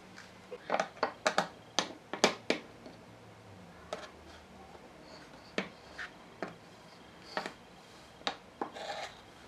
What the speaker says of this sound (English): with that all pressed back in and smoothed down with my spatula